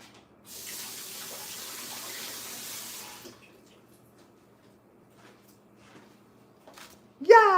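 Tap water runs steadily into a sink for a few seconds as tomatoes are washed, then stops, followed by faint clatter and a voice at the end.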